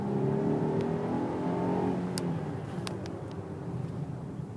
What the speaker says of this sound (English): So I'm going to accelerate and show you here so you can have a quick glimpse of the